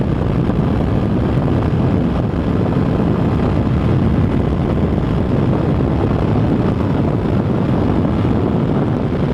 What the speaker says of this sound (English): we're in 6th gear here on a 25 horsepower 250. Going uphill.